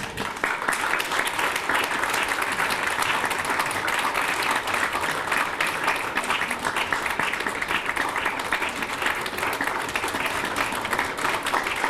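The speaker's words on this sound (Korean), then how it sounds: "자, 다 같이 큰 박수로 맞이해 주시기 바랍니다." A large crowd at a graduate school entrance ceremony keeps up loud, continuous applause for the entering officials and faculty, an unbroken wash of clapping from start to finish.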